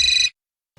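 A phone ringtone sounds in a household scene from an Indian comedy TV serial: a loud, steady electronic ring lasting a fraction of a second, then cut off into silence.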